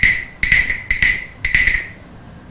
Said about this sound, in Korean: 이거는 톡톡이라고 하는 악기예요.